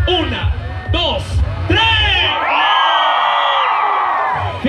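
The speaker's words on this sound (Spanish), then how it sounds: "los de allá atrás, un grito muy fuerte a la cuenta de 3" A large crowd at a sonidero street dance in La Mancha, Naucalpan, lets out a loud sustained shout on a count of three, preceded by an announcer's amplified voice over the PA.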